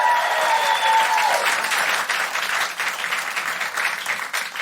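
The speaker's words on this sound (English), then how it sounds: "Big round of applause for Victoria" Audience at a live comedy show applauds a guest, a dense wash of clapping that stays strong for several seconds and gradually thins, with a brief tonal sound near the start.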